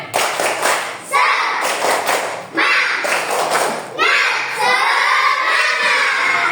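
A group of elementary school children in a classroom claps together in a patterned rhythm, loud and close, with bursts of quick claps and thumps, shouting along between beats.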